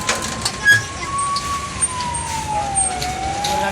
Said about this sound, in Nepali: दादा दमकल आयो बोल्ला